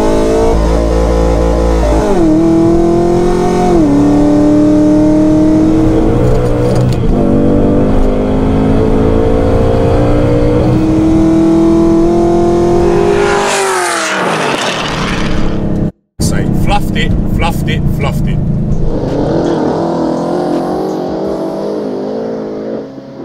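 An 800 hp HSV R8 GTS and an 800 hp Ford Mustang GT race side by side, engines roaring loud and close, pitch climbing through gear changes, then a surging pass and a brief cut before a fresh revving rise.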